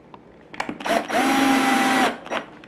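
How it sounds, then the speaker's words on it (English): A power drill drives a screw into a wood frame, a single loud whirring burst of about a second close by, framed by small handling clicks and knocks. "I'm going to drill that in."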